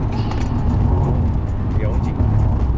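A Nissan Skyline GTR R34 V-Spec II Nür held at full throttle gives a loud, steady low engine roar heard from inside the car, with a voice talking over it.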